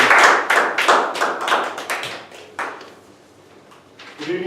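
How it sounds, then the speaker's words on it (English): A small audience at a Toastmasters meeting breaks into applause, loud bursts of clapping that thin out and fade to a few scattered claps before stopping. "Give a big round of applause for"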